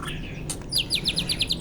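An oriental magpie-robin gives a loud territorial call, a close series of bright, rapid repeated chirps after a brief rustle, sharp and clear.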